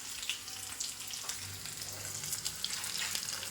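Small onions and mustard seeds frying in hot oil for a Kerala-style avoli fish curry give a steady, close, low sizzle with soft crackles and stirring, and no talk.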